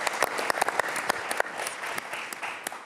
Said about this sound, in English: I'd ask for a round of applause for our military.